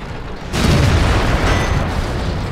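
A Sherman Jumbo (M4A3E2) tank cannon fires in World of Tanks, a sudden loud boom that rolls into a sustained, rumbling blast lasting a couple of seconds.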